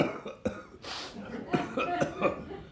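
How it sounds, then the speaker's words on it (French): Several sharp coughs burst out in a row from an audience member at a theatre reading, close and fairly loud, broken up by brief throaty sounds. "Un gars au premier rang se met à tousser."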